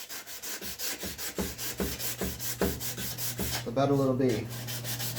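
A hand scraper drags over a wooden spice rack during final clean-up, producing a steady series of close, rhythmic rasping strokes about twice a second, with someone speaking briefly near the end.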